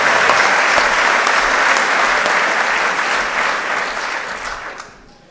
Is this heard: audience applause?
yes